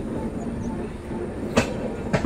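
The 17221 Kakinada–Mumbai LTT Express rolls along the tracks with a steady, close rumble heard from onboard, broken by two sharp clacks near the end.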